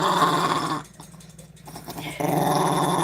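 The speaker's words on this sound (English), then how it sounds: "this dog keeps me in his sight at all times" An old dog with a single remaining tooth growls loud and close in a continuous, rumbling snarl that briefly dips quieter midway before swelling back.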